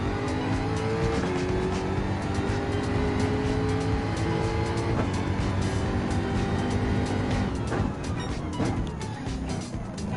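A World Touring Car race car in Gran Turismo 7 held at full throttle in third gear at Autopolis, its engine droning loud and steady with harmonic whine throughout and faint tire noise.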